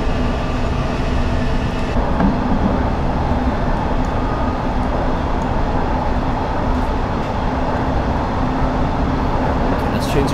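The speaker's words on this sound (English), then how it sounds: "So far I've been really enjoying driving this train." London Underground S8 Stock train on the Metropolitan Line in Train Simulator 2019, a steady rolling rumble with faint track noise that holds constant throughout, close and moderately loud.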